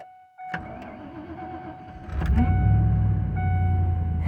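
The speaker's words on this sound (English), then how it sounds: "We're going to do a snowy frozen cold start for you this morning" A 1997 Ford F-150 is started cold in snow at about 20 degrees. A short starter whine and cranking gives way to the engine catching into a loud, rough, rumbling idle, close by.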